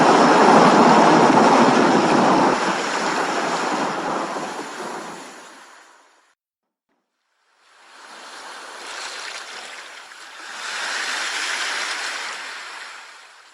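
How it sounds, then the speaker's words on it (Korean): Sea surf murmurs in long broadband washes at a fishing village on a stormy, wind-driven rainy night, loud and steady, then falling away to a short silence before swelling back in. "파도에 응얼대는 소리는 악마의 저주처럼"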